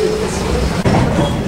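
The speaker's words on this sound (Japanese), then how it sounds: "電車は有田駅に到着" A train pulls into Arita station in Kyushu, Japan, with a steady, close rumble of wheels and carriage noise throughout and a brief dip near the middle.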